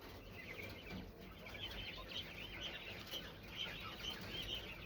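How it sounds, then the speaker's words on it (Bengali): White Japanese jumbo quail, egg-laying birds kept together in a flock, cluck and chirp in a steady busy chatter over a constant background hiss, with no talking. "এগুলো সব জাম্বু জাতের কোয়েল।"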